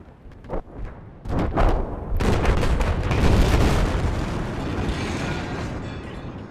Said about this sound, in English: Be wary not to take cover in buses while this explosion process is going off because it will flip them over.